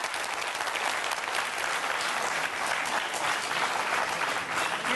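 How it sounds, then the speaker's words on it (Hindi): Loud, sustained applause from an audience for a boy of about ten, steady clapping filling the whole stretch with no talk over it. "जरा उस बच्चे के लिए जोरदार तालियां बजाइए"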